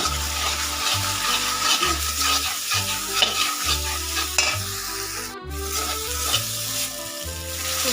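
A spice paste of dried chilli powder, turmeric, ground cumin and garlic paste fries loudly in a pan, with a dense continuous sizzle and steady rhythmic stirring scrapes throughout, close up and with no talk.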